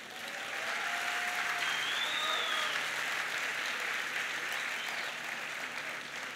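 A graduation audience claps in steady, dense applause that swells and holds, moderately loud and slightly distant, with faint crowd murmur underneath.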